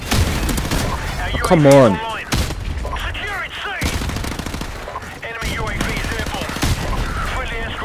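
Rapid bursts of gunfire fill a Call of Duty 4 Remastered match, with close automatic fire and explosions and someone talking over the shooting.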